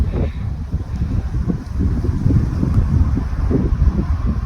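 Steady gusting wind buffets the microphone at an outdoor air rifle range, making a low continuous rumble with no other distinct sounds.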